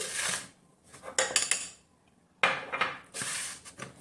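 A mixing bowl clatters as it is set down and handled on a counter, giving several short, close ceramic-and-metal knocks and scrapes separated by pauses.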